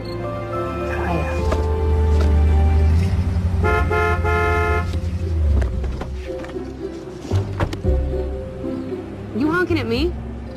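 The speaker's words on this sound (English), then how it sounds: "You honking at me?" A car horn honks in a few short tones at a cyclist on a street, mixed with traffic, then voices talk.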